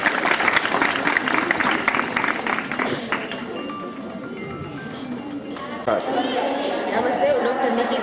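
At a girls' school event in Vadiya, a crowd's applause rings out strongly, fades into chatter and scattered claps midway, then swells briefly again near the end.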